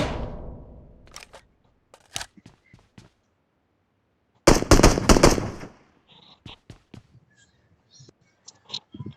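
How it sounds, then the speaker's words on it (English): Gunfire in an online multiplayer shooter: scattered single shots and clicks, a loud dense burst of automatic fire around the middle, then more sparse distant pops, with no talking. "Is that you shooting?"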